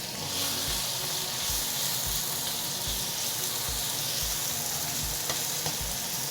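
One big finely chopped onion sizzles steadily in a hot pan, a continuous close frying hiss with soft periodic stirring scrapes and no voices.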